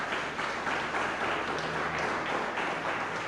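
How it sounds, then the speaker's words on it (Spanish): Congregation clapping in a church service, a steady wash of applause from many hands, moderately quiet and continuous throughout, with a faint tonal hum underneath. "Denle un aplauso a Cristo el Señor."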